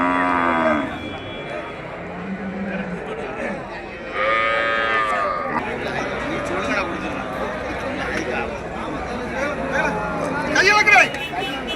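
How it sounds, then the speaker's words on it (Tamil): Manapparai bulls, cart and farm cattle at an outdoor livestock market, lowing and mooing repeatedly at varying distances over steady crowd chatter, with people talking throughout. "மணப்பாறை காளை, வண்டி காளை, விவசாயத்துக்கு ஆகும். நல்ல அருமையான காளைகள்."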